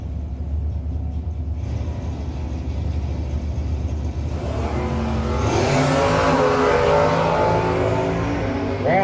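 Drag racing cars, including a 1970 Mustang, rumble at the line at a no-box drag strip, then launch with a loud rising roar that swells and sweeps away down the track.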